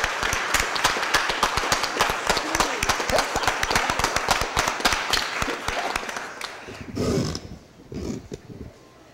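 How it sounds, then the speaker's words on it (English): A council chamber audience at a Board of Aldermen meeting gives Judge Hitt a big round of applause, with dense, loud clapping for about six seconds that then thins out and fades, followed by a few faint murmurs. "Let's give Judge Hitt a big round of applause"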